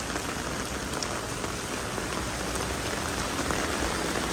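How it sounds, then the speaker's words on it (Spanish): Heavy rain pours down steadily, a dense, close hiss of drops striking surfaces with no pauses or voices. "así sigue lloviendo"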